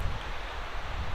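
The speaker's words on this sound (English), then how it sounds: "You may hear the wind now." Wind sweeps across a Colorado overlanding campsite as a steady, unbroken rush of noise with low buffeting rumble against the microphone, no voices.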